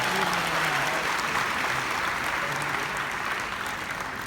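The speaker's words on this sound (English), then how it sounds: "Keep clapping." An audience at a Ghanaian political gathering claps continuously, a dense, steady wash of many hands that stays loud throughout with no voices on top.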